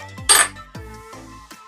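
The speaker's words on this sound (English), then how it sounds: "I'm gonna put the last of the green onion in." Green onion going into Filipino fried rice in a pan: a few close metallic clinks and taps of a utensil against the pan, one bright sharp strike followed by softer ringing knocks, with no talk.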